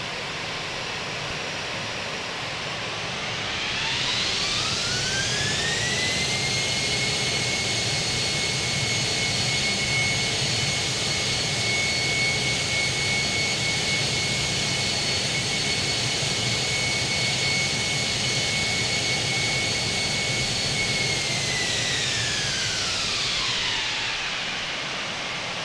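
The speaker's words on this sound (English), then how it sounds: "So I'm going to select reverse thrust." Simulated Fenix A320 jet engines in Microsoft Flight Simulator 2020 spool up into reverse thrust with a rising whine, hold a loud, steady roar for many seconds, then wind back down, with no talking.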